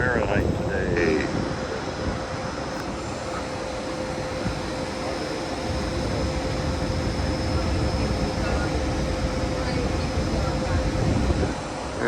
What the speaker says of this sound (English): Here goes the electric mobile unit consist departing Kelenfold, Budapest-Kelenfold.